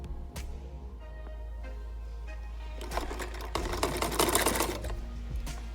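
A sewing machine stitches a kurta panel in short whirring runs over a low hum, growing louder and denser toward the end, with no talk.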